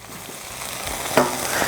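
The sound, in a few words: butter and onions sizzling on Blackstone griddle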